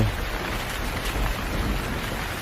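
Steady rain falling, a dense even hiss with low rumbling underneath, no voices.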